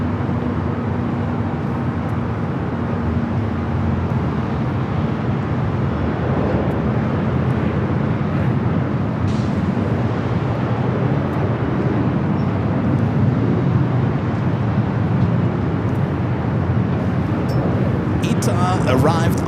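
A jet airliner rumbles steadily near Los Angeles LAX airport, a broad continuous roar lasting throughout with no clear peaks, while voices are heard talking over it.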